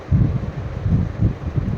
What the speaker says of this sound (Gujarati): અને જો મસ્ત પવન છે